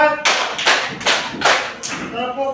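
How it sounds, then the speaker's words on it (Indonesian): A class of students claps together in counted unison bursts, four loud, evenly spaced group claps close by, with a voice speaking faintly around them. "Tepuk 1, tepuk 2, tepuk 3, tepuk 4,"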